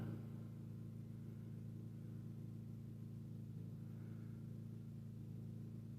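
A car engine with a misfiring cylinder idles steadily and close by, giving a continuous low rumble with a faint uneven pulse and no talk.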